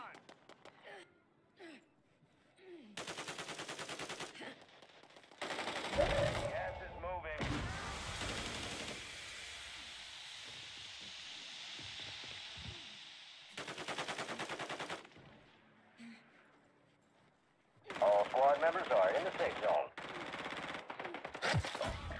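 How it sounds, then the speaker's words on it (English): Machine gun fire in Call of Duty Warzone, several sustained bursts of rapid automatic gunfire with pauses between them, loud and close, with a player talking over parts of it. "How many bullets did I just put into that dude?"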